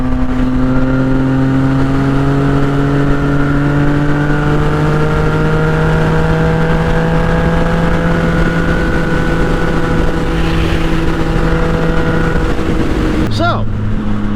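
A Yamaha FZ09 motorcycle engine climbs loudly through a long, steady rev while riding, its rising tone held for several seconds before a sharp shift and drop near the end.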